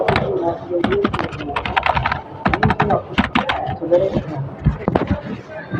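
Quick bursts of soft, non-mechanical keyboard typing, close and fairly loud, with a person talking between and over the keystrokes.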